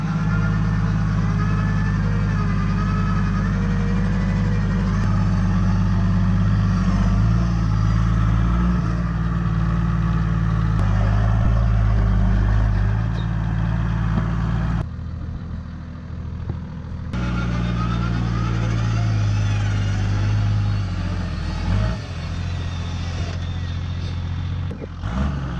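A 4x4 engine idling and revving steadily while climbing a rocky, slimy track at Glenpatrick in Victoria, a loud continuous low rumble with brief rises and a short drop near the middle.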